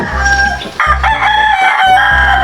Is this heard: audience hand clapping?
no